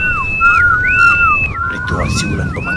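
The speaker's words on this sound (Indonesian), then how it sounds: "Ritual siulan pemanggil angin." Someone whistles a ritual call to summon wind for kite flying, a loud, close run of rising and falling melodic notes that repeats several times over a low background murmur.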